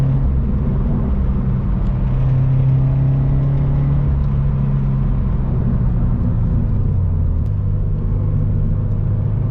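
A Toyota GT86 engine drones steadily from inside the cabin, a low continuous rumble with slight shifts in pitch as it drives.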